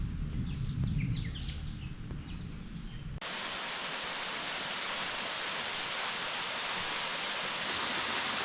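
Waterfall on a bush hiking trail in the Brisbane Waters area, a steady full-spectrum roar of falling water that starts abruptly a few seconds in, preceded by a quieter outdoor stretch with faint birdsong.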